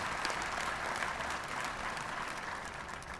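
An audience applauds at a South African final election results announcement, producing a steady, fairly soft wash of clapping that holds evenly throughout.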